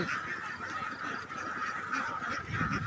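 A flock on a Thai duck farm keeps up a continuous honking and quacking chorus, fairly distant and even, with many birds calling over each other and no one talking.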